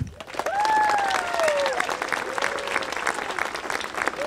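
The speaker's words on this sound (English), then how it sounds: "can we give one more round of applause for the kids?" An audience at an elementary school anniversary ceremony applauds the kids, a sustained wash of clapping with a whistle cutting through early on and a few faint voices beneath.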